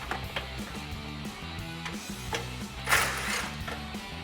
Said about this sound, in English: Grab your 18mm socket and repeat that process on the other side.